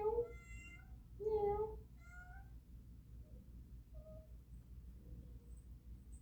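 A female house cat meows indoors while rolling on the floor, with three clear, close meows in quick succession at the start, followed by quieter room sound.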